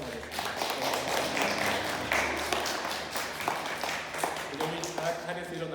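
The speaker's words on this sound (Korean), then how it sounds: "이 시간에 박수로 우리 학생 다시 한번 환영하겠습니다" A church congregation claps to welcome students during a Korean Sunday worship service. The clapping is moderate and somewhat uneven, and voices are heard through it.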